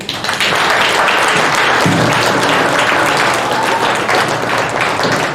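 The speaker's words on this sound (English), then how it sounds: "Let's give a clap offering to Dr. Dervado" Sustained applause from an audience at a health and care Sunday church service, dense and steady at full volume for several seconds after a brief quieter start.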